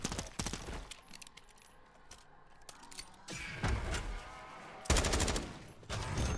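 Video game gunfire from an MW2 weapon in a Call of Duty camo grind, with bursts of rapid shots separated by quieter gaps, loud and close, no speech.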